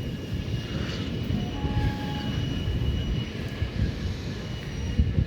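Chitrakoot Express pulling out of Katni Junction, a steady low rumble of wheels and engine that holds at an even, moderately loud level throughout, with faint high tones above it.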